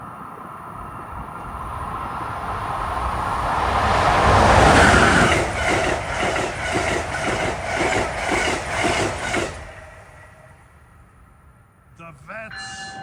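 Amtrak passenger train 193, running from New York to Washington, roars past at speed, its whoosh building and then giving way to a rhythmic clickety-clack of wheels on rail joints before fading, followed by a brief radio-like voice.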